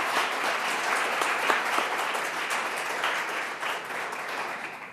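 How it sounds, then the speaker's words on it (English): A crowd at a city council at-large candidate forum claps for the candidates, a sustained, even burst of applause that holds steady before easing slightly near the end. "Let's give them a round of applause"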